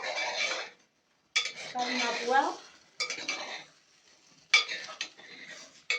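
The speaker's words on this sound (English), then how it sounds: "So we are checking our pots again and again." Metal pots of stew are checked and stirred during home cooking in rural Taung, with clanking lids and scraping spoons in several close bursts separated by short pauses.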